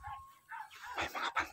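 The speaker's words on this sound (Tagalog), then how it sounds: "May mga aso sila mga tol" Dogs make a few quiet, brief barks and yips, faint and somewhat distant, in short bursts over a second or so.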